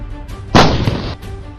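An ATAGS towed artillery gun fires a single loud, close blast with a sharp onset and a roaring decay of about half a second, with no voices.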